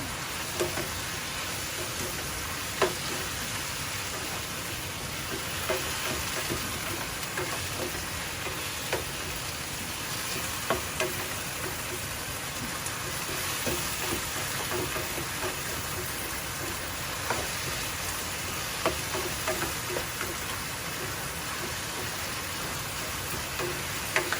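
Beef and broccoli sizzling steadily in a hot pan as it is stirred, a continuous frying hiss with occasional scraping clicks of the utensil, close and unbroken, with no talking.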